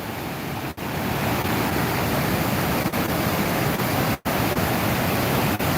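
The Great Falls waterfall in Paterson, New Jersey roars as a steady, dense broadband rush of falling water, close and loud throughout with only brief dips.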